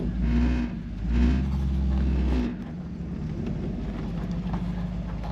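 A Ford F100 truck pulls away, its engine rumbling loud and low, swelling twice as it revs up through the first gears before settling into a steadier, quieter running drone.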